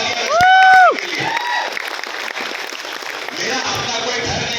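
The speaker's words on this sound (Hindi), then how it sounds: "जोरदार तालियां के लिए।" Audience in the Urdu Maskan auditorium in Hyderabad breaking into applause at a training session, a brief high whistle at the start and then sustained crowd clapping at a moderate distance.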